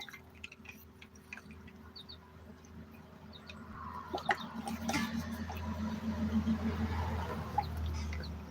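Several chickens cluck softly around a water bottle setup, low and steady, growing a little louder and busier toward the end, with faint tapping and dripping underneath.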